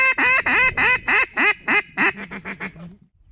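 A duck quacks loudly and repeatedly close by in a marsh during a hunt, a rapid series of about a dozen nasal calls that speed up and trail off at the end.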